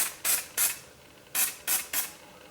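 Short hissing bursts of a hair spray can sprayed onto hair, five quick puffs in two clusters, close and fairly soft against a quiet background.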